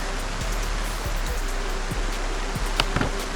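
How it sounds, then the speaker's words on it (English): Steady rain pours down in the Project Zomboid video game, a dense, even hiss with no talking, broken by a few faint ticks and drips close by. "it's pouring rain"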